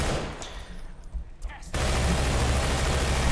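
Gunfire in the video game Entropy: Zero 2 comes as dense, loud rapid bursts, quieter at first and then a sustained roar of shooting.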